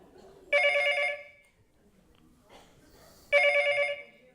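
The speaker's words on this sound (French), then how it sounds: "Téléphone. J'entends." An indoor telephone bell rings twice, each burst a loud, bright trill lasting about half a second, separated by a pause with faint background sounds.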